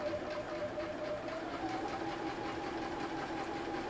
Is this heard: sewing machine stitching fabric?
yes